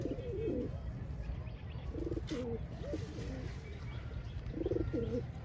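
Pigeons at a home loft coo in a few separate low rolling phrases, mid-distance, over a steady hum of background noise.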